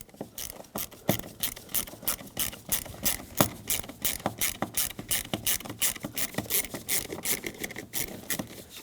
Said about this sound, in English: get that Phillips head screw out of there